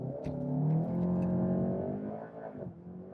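Turbocharged car with an added boost gauge and wideband O2 sensor launching in a 0 to 60 run of about four seconds; a loud engine note climbs steadily in pitch, then breaks and resettles near the end as it shifts.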